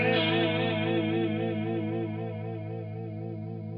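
Sustained guitar tone run through a micro reverb pedal with sine-wave LFO modulation, a smooth, steady wavering shimmer in the pitch, ringing alone and slowly fading.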